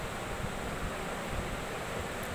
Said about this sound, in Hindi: बारिश भी हल्की फुल्की हो रही है